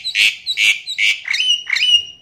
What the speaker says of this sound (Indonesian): burungnya gacor sekali soalnya